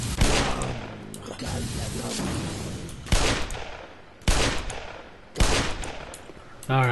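A firefight in Black Mesa pits a machine gun against a pistol, with loud sharp shots and bursts arriving in several separate blasts, mixed with other game noise and some talk.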